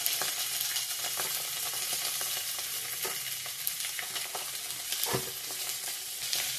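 Boiled potatoes fry in a pan with salt and turmeric, giving a steady close sizzle broken by a few stirring scrapes and clinks.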